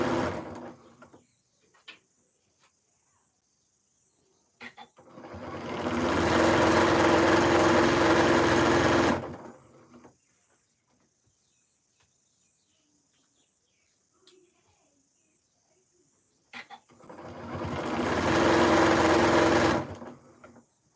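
A sewing machine stitches the seams of a quilt top in two sustained, whirring runs of about four seconds each, separated by quiet pauses with faint handling clicks.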